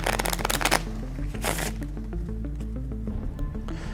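A quick burst of cards being riffle-shuffled, a flurry of rapid crisp flutters, followed by softer card handling and a brief second riffle.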